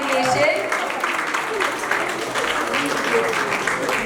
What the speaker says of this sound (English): So, yes, please have a big round of applause for English.